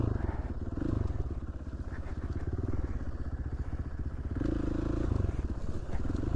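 A Husky motorcycle ridden on trails in Idaho, its engine throbbing steadily with a rapid pulsing rumble throughout, loud and continuous with faint clatter.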